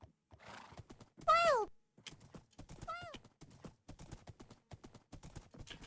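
Horse hooves clip-clop in a steady, fairly quick rhythm in the Minecraft video game, broken by two bright neighs near the start, with light game sounds between.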